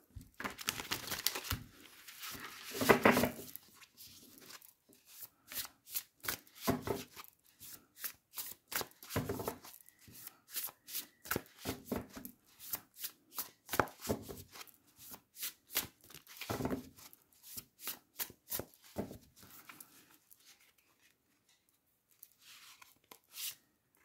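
Tarot cards are shuffled by hand close to the microphone. The sharp riffles and flicks come in quick rhythmic clusters for about twenty seconds, then fade to quiet handling.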